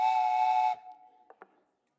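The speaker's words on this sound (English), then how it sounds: "When the water boils inside, it pushes the steam up through a hole and it whistles." A tea kettle whistles as its water boils, holding one loud, steady, piercing tone that cuts off abruptly and is followed by a couple of faint clicks before silence.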